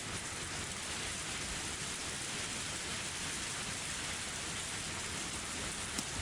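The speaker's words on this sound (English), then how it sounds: "It was raining far too hard to see the moon." Heavy rain pours as a loud, unbroken hiss in the Higurashi When They Cry Hou video game, steady throughout with no voices.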